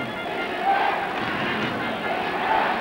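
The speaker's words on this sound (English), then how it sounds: "And this crowd here really buzzing with excitement now." A football stadium crowd at a 1981 FIFA U20 quarter-final, Australia against West Germany, keeps up a distant, steady murmur and buzz, with faint swells of voices.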